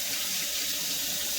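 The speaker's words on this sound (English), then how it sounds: "Next, you want to kind of rinse everything off, make sure it's super clean, and get all the scales off." Tap water runs steadily over salmon fillets being rinsed clean of scales, a constant close hissing splash for the whole moment with no voices.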